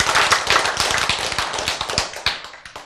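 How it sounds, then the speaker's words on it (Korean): Congregation applause in a church sermon, dense rapid clapping from many hands close by, steady for a few seconds then thinning out. "박수."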